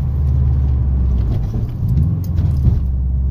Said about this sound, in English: Oh, that was a clean ass downshift.